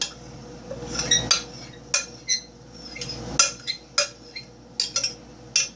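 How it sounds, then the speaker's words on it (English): A spatula scraping leftover natural pink grapefruit soap out of a pot, with a series of close, sharp metallic scrapes and clinks in irregular bursts over a low steady hum. "I'm just gonna scrape the rest of the soap out."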